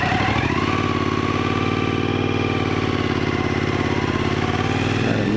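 A 2018 Suzuki V-Strom 1000 fitted with Delkevic slip-on exhausts idles close by, a steady low pulsing growl with a fast even beat, loud and constant throughout with no voices.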